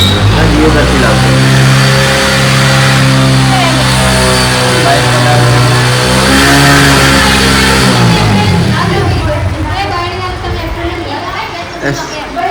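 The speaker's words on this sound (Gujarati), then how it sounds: "ચમ આટલો રેસ કર્યો?" Honda Activa scooter engine revving hard and steady for about eight seconds, then dropping off as the revs fade, with people talking over it.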